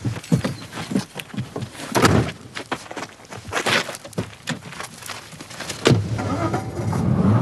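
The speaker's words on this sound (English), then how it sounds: "The car drove off at speed." A car pulls away at speed under kidnap conditions. The engine revs up and door and body noises come in uneven bursts, then a harder, louder rush of motion, close and with no voices.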